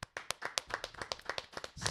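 A handful of people clapping to welcome guests on a radio show, a short, fairly sparse run of distinct claps at moderate volume, with no voices.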